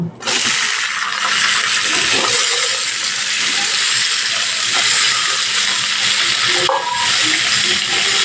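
Vegetables frying in oil with salt and turmeric for a moong dal dish give a loud, dense, continuous sizzle and hiss. Occasional soft scrapes and clinks of stirring come up close over the sizzle.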